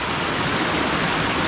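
Strong runoff water rushes down from the mountains after heavy downpours in Miskhor, Crimea, a dense, continuous roar that stays close and steady throughout.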